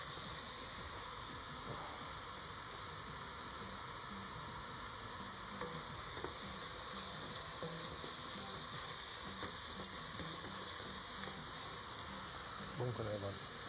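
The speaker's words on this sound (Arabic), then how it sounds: "نبدأ نضيف لها الماء بعد ما نبدأ نحركها بالكامل مع الخليط" Spinach soup mixture is stirred steadily in a pot, a soft continuous scraping and sloshing with a faint sizzle-like hiss underneath, with no talking.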